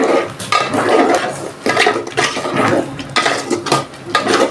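Spices sautéing in a pan for a vegetable dish are stirred with a utensil, producing loud close sizzling and scraping strokes in an uneven rhythm, with no talking.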